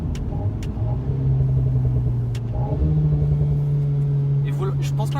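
Alpine A110 sports car engine revving through gear changes with a steady droning note and rising pitch, heard from inside the cabin with talk over it; exhaust pops are not clearly distinct.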